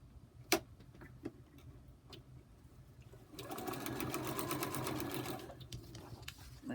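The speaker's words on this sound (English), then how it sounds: "You can start the sewing." A sewing machine stitches a hummingbird quilt pattern. A few faint clicks come first, then a steady, rapid run of stitching lasts about two seconds before slowing off.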